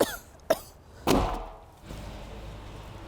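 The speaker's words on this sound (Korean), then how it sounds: "손님을 찾아 운전을 하는 중에도 멈출 줄 모르는 그녀의 기침." A woman with allergies, bothered by dust while driving, coughs in short, abrupt bursts: a brief cough, then a heavier one with a rough tail, before a quieter background returns.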